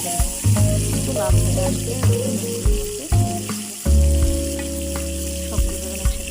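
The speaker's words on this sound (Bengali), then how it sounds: "পুরো অবশিষ্ট যে তেলটা আছে ওই তেলের মধ্যেই বেগুন আর আলু একটু" Eggplant and potato fry in oil left over from frying fish on a clay stove, with a loud, close, constant sizzle broken by clattering stirs and a brief spoken remark.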